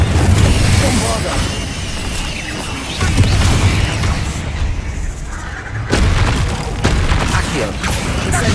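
A Bombarda spell blast in the video game Hogwarts Legacy, heard as loud booming crashes and rumbling impacts at a few points, layered with dense game effects and a voice calling out.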